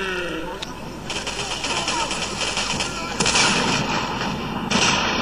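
Gunfire in the video game Singularity crackles and booms amid dense, noisy game sound, with bursts of shots and a brighter, louder blast near the middle and end.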